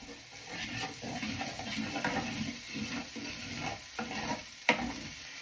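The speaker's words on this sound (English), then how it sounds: "And I'm going to saute this around for a few minutes" Scallion whites and chopped ginger sauté in olive oil in a skillet with a busy crackle. Repeated spatula scrapes and stirring sweeps come close, and a sharp clack sounds near the end, with no voices.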